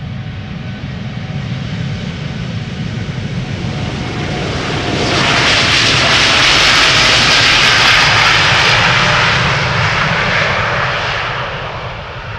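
A jet airliner departing Amsterdam Schiphol Airport, its engine roar building steadily to a loud, broad, sustained rush as it passes close by, then slowly easing away.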